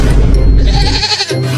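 Goat bleating on a farm, a wavering cry lasting about a second, loud and close, followed by a quieter low sound.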